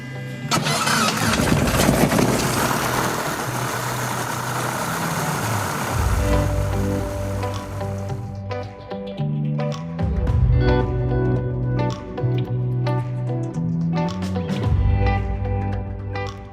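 A light aircraft engine cranks and catches at the start of a young pilots' air tour in France, a loud close rumble that settles into an uneven idle with shifting tones.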